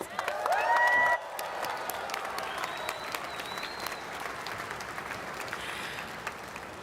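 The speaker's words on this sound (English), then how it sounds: "How about another rousing round of applause?" A crowd gives rousing applause at a Fourth of July celebration at the National Archives, loud dense clapping with a brief louder burst at the start, then steady clapping that carries on under faint tones.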